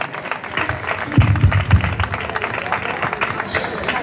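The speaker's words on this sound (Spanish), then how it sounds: "Fuerte el aplauso para la autora del cartel de Feria de Corea del Río" Sustained crowd applause for the poster artist at a Spanish song festival and fair evening in Coria del Río, dense clapping throughout with a few heavier thumps and some voices underneath.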